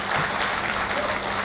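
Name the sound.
audience applause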